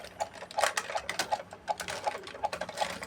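A Buzz Lightyear toy's button-driven mechanism clicks and whirs faintly in quick, regular ticks, close by and quiet, for about three seconds.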